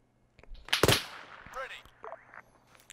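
Enemy gunfire in the video game Arma 3 cracks out as a few sharp shots, close and loud, followed by fainter reports over a quiet background.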